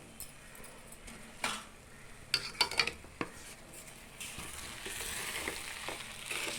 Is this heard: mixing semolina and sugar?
yes